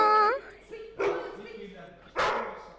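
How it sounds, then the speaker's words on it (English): A trained dog barks on a film set, with about three sharp barks and yips spaced roughly a second apart, close and loud, following a high whimpering whine at the start. "they capture the dog's barks, don't they?"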